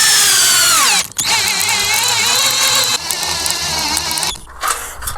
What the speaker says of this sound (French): J'essaye de tellement le visser que ça traverse aussi le tasseau et ça se visse dans la